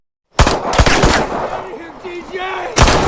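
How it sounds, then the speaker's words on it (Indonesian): Sharp bursts of gunfire crack out at the start and again near the end, with a rapid rattle between them and faint voices underneath. "Alhasil si Agnes beradu tembakan dengan si TJ dan si Nick"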